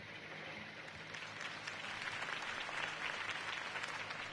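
Steady crowd applause in the video game Batman: The Telltale Series, dense and fairly even, building slightly toward the middle and continuing to the end.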